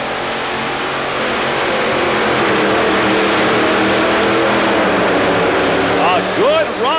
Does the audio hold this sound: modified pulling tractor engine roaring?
yes